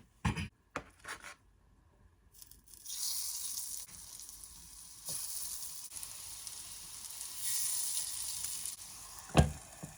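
Vadai frying in oil in a deep pot, giving a steady bright sizzle from about three seconds on, with a few sharp clicks and knocks before and one loud knock near the end; no one speaks.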